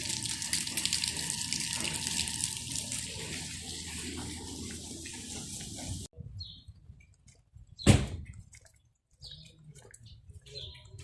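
Heavy rain in Buraydah, Saudi Arabia, with water pouring and splashing in a steady loud rush that cuts off abruptly partway. A sharp thump follows, then quieter drips and faint trickling.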